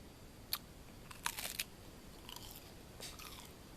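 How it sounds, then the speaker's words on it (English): Someone bites and chews a crunchy homemade potato chip, giving a few faint, sharp crunches close by in a quiet room. "listen to the sound of the crisp"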